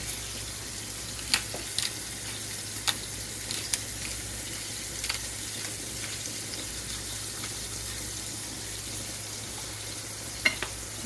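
Salt-and-pepper seasoned meat patties fry in a hot pan with a steady, soft sizzle, broken by a few sharp pops and crackles, close and fairly quiet with no talking.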